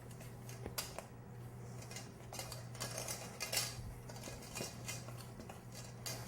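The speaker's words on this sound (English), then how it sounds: "Then in goes the nut and oat flour. And again, we'll just give that a whisk." Whisk scraping and clinking against a bowl while nut and oat flour is mixed into dry ingredients for fruit and nut cookies, soft and close with irregular light taps and rattles.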